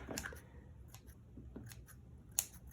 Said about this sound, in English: You can trim up your pom-pom if you'd like, if it's too big or too small.